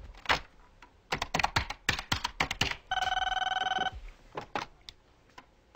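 A telephone bell rings in one steady electronic burst lasting about a second, set among rapid computer keyboard typing clicks before and after it, with no talk.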